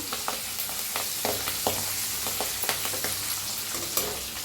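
Green chillies and asafoetida are stirred in a hot pan, with a continuous crackling sizzle and quick scraping strokes of a spoon, close and steady.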